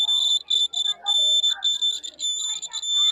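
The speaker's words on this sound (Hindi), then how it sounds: "अलार्म इस तरीके से बोलेगा" An earthquake warning alarm shown at a children's fair sounds a steady, high-pitched electronic beeping in repeated pulses. A person talks quietly underneath it.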